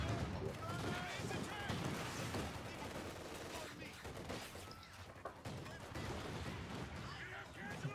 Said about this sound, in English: Excellent rifle grenade